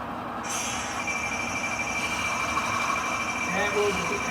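Railroad cars drag slowly through a rail yard switch, giving a steady rolling rumble with a thin, sustained wheel squeal running throughout, heard from close by.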